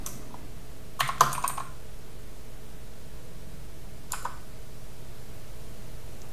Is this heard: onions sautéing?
no